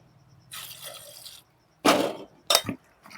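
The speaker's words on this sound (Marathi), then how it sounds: "आता हे जे आपले वांगे आहेत हे एका पाण्यानं धुवून घ्यायचे" Brinjals are washed by hand in a vessel of water, giving three close, separate bursts of splashing and sloshing with brief quiet gaps between them.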